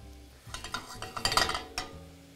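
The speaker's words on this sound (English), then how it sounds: "we can just place these mushrooms right down in the oil and just begin to roast" King trumpet mushrooms set cut side down into hot oil in a pan, giving a soft crackle and light sizzle with a few clinks of the pan and utensil over about two seconds, close and fairly quiet.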